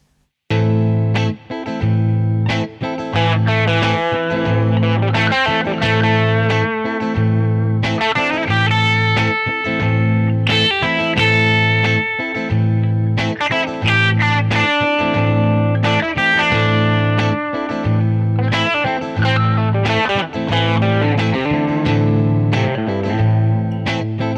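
Distorted electric guitar plays minor pentatonic lead lines over a minor chord, a steady run of picked notes and bends that runs loud and continuous, first leaning on chord tones and then on notes outside the chord.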